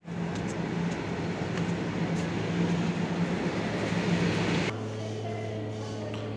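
A local train at a station near Hyderabad on the Lingampally–Secunderabad line gives a steady broadband rumble that drops to a lower idling hum with a tonal drone partway through, close and continuous, no talk.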